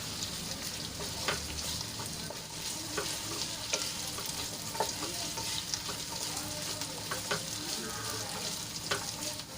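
Potatoes sauté in hot oil in a pan, a soft continuous sizzle broken by light scraping and clinking as a spoon stirs them, close and fairly quiet.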